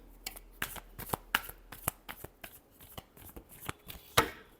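Tarot cards are shuffled by hand in a quick series of crisp, close riffling snaps and soft slaps, irregularly spaced, with a sharper burst near the end and no talking.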